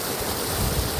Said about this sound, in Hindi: कितना सुंदर पानी का एक झरना